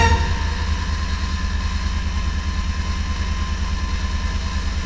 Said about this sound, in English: Foot off the accelerator, key off, key on, begin engine starting sequence now.